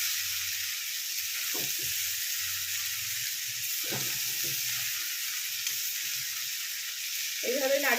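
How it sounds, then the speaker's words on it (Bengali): Chowmein with spices sizzling in a pan as it is stirred and turned over: a steady, close frying hiss with soft scraping stir strokes throughout. "এইভাবে নাড়িয়ে দিলাম, পুরোটা মিলিয়ে দিলাম নিচে ওপর করে"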